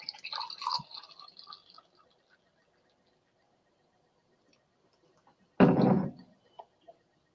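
Breakfast stout beer is poured from a bottle into a glass in one short, splashy gurgling burst. It is close and fairly loud, followed by a couple of faint drips, after earlier light clinks and near silence.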